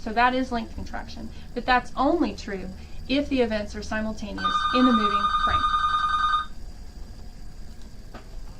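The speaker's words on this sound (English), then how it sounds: "sorry about the phone call" A telephone rings with a steady electronic trill partway through, fairly loud, right after a man lectures on physics, and it continues after his speech stops.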